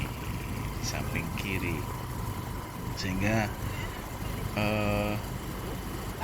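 A motorized becak, a motorcycle rickshaw with a sidecar for up to four passengers, idles in a low, continuous rumble on Samosir Island, while someone narrates over the engine throughout.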